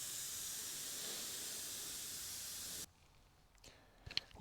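Spray gun laying a light coat of white base coat over flake paint on a vintage stroller, a steady close hiss for about three seconds before cutting off to quiet with a few small clicks.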